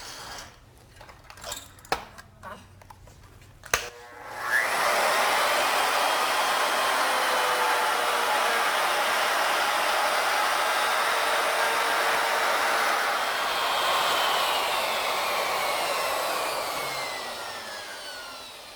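A router makes the third cut of a 3-start rope twist, with a few handling knocks before the motor spins up into a loud, steady, high whine that holds for several seconds while the bit cuts the wood.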